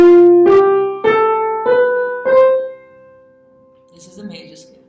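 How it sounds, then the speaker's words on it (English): A single voice sings a major scale, five or six sustained ascending notes with clear breaks between them. It is close and clear, then fades into quiet with faint soft sounds at the end. "This is a major scale."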